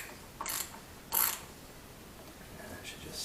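A cap wrench turns the oil filter housing on a Mercedes-Benz C300, giving two short ratcheting clicks close by, then fainter scraping.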